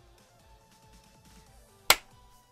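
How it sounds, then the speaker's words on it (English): A single sharp hand clap, close and loud, cuts through a quiet room once, marking the start of a podcast recording about video games, with faint low background noise around it. "Clap my hands so I know where the podcast roughly begins on my recording."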